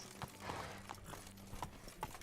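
Horse hooves in the video game The Witcher 3 give a few soft, scattered clops, quiet and brief, spaced irregularly over a faint background.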